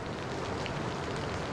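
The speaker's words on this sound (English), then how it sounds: "Fenway Park was immersed in a steady downpour" Steady rain pours down over Fenway Park in Boston, a dense, even hiss of drops on surfaces that holds at a constant level throughout, with no voices.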